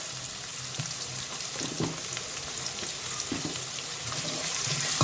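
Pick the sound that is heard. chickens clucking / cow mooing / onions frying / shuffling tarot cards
onions frying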